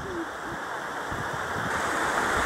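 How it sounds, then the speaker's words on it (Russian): The Mermaid's Tears waterfall in Jermuk, Armenia, where water pours down a sloping rock face, makes a constant, dense roar that holds steady and fills the whole stretch. "Грохот такой стоит от водопада."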